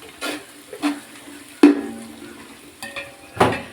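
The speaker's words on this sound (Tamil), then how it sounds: "இந்த அளவுக்கு வெங்காயம் வதங்கணும்" Onions sauté in a pan for chicken biryani, with a few sharp spatula scrapes and clinks against the pan over a faint frying hiss, spaced irregularly and heard close up.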